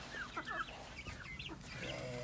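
Barred Plymouth Rock chickens cluck and squawk in short overlapping calls from close by, over a steady farmyard background.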